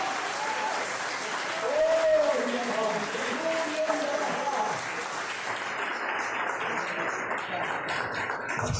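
A church congregation claps together in praise during a worship service, a sustained wash of applause with voices and shouts mixed in, thinning toward the end.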